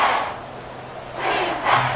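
Stadium crowd roar from a Seahawks home game in Madden NFL 24, a steady broadband rumble that swells in two louder surges near the end, with no talk over it.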